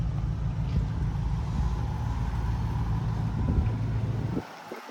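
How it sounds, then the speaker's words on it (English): Ford Bronco backing into a shop, a steady low engine rumble with tire and body noise throughout, cutting off near the end. "Back up the Bronco into the shop."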